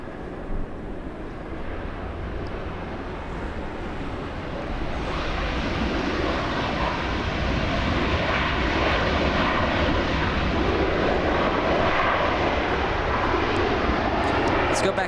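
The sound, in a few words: Airbus A321 jet airliner arriving at LAX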